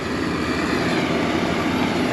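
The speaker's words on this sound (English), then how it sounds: "We got Jaden running the other packing tractor here." Farm tractor packing haylage into a bunk silo, its engine running at a steady, loud, close drone with no breaks and no voices.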